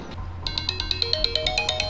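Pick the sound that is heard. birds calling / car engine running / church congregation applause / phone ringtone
phone ringtone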